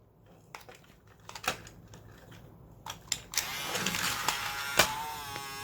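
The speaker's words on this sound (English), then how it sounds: "Just a motor that really does sound like it could need a lot of lubrication" Small battery-powered motor in a Milkyway Robot Fighter toy that needs lubrication, whirring and grinding with clicks and rattles, louder and buzzier in the second half, close up with no voices.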